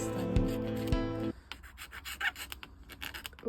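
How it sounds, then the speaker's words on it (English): Scraping dried paint off a budget beginner's watercolour palette, heard as a rough, rasping scratch of irregular strokes of close, moderate loudness, after a brief steady tonal hum at the start. "I'm just going to see if I can scrape some of this off"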